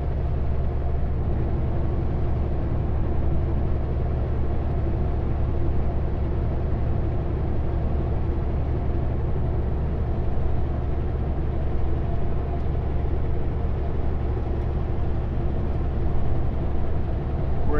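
A semi truck's engine drones steadily in 16th gear on a foggy highway, a constant low rumble of engine and road noise heard from inside the cab with no speech.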